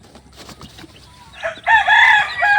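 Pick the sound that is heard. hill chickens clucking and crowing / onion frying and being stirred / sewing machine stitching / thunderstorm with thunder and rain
hill chickens clucking and crowing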